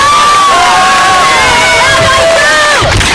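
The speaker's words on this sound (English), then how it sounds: "This girl, she gets an extra applause." Loud crowd cheering at a women's award ceremony in Houston, with many voices whooping and shouting in overlapping rising and falling cries, close and dense throughout.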